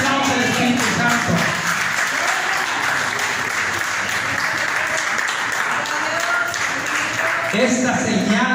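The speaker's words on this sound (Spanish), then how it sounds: "Dale un aplauso al Espíritu Santo." A church congregation claps and applauds steadily throughout a sermon, loud and sustained, with voices calling out beneath and over the clapping.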